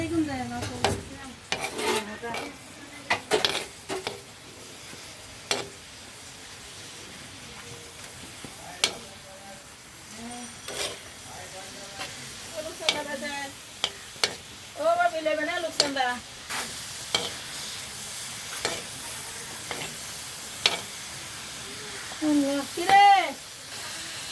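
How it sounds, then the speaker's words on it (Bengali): Shrimp frying in a pan with coriander, cumin and salt, a steady sizzle with frequent scraping and stirring of the pan, while someone talks intermittently over the cooking. "দেখেন আমার চিংড়ি মাছগুলো ভাজি হইতেছে।"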